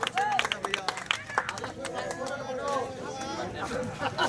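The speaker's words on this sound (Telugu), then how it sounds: "మరి గట్టిగా చప్పట్లు కూడా అందరూ." A crowd at a rural village farming competition prize ceremony in Kadapa district claps loosely, scattered applause mixed with chatter and voices talking nearby throughout.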